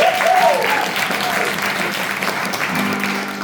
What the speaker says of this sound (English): Could we have a round of applause for Missiness, the Misses of the World?